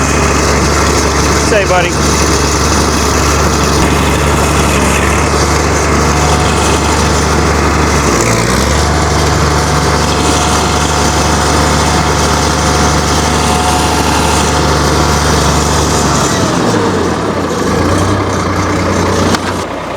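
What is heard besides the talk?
Farmall 806 tractor engine idling after cold start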